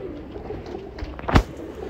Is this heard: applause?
no